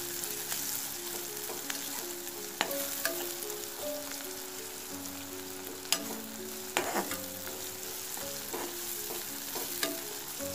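Onion, tomato and green chili are stirred in a pan with sizzling oil and intermittent scraping and clanking of the spoon against the metal, close up and with no voices.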